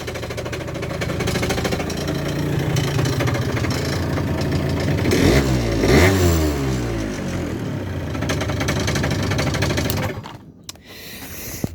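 A Kymco MXU 50 quad fitted with a Malossi 70cc kit, Malossi 19 carburettor and Naraku variator revs hard close by, a buzzy two-stroke rise and fall that peaks midway before cutting off abruptly, with no talk.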